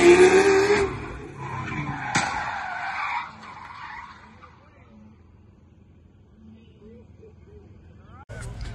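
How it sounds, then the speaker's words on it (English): A Lamborghini spinning out on a road course, with a loud tire skid and engine noise in the first three seconds that fade to quieter car sounds and background chatter. "I guess he got too squirrely and spun out right here"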